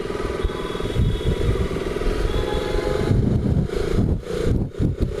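Royal Enfield Himalayan motorcycle riding along, its engine thrumming steadily with wind rush and some clatter, loud and close, then the note breaking up near the end; no talking.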